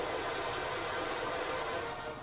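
Steady broadband rumble of a train running on track in the railway strategy game Transport Fever, a continuous loud rolling noise that holds evenly throughout with no voices.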